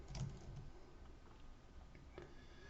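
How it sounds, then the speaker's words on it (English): Computer keyboard typing, with a few faint, scattered key clicks over quiet room noise, close but soft and without talking. "So I'm going to go ahead and type test user."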